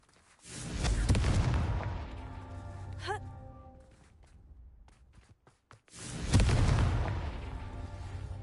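Confringo fire spells explode in Hogwarts Legacy with two heavy booms a few seconds apart, each a loud burst that rolls off slowly, with a quieter magical chime between them.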